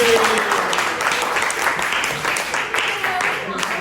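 A crowd applauds steadily for several seconds, a dense wash of clapping that stays even throughout.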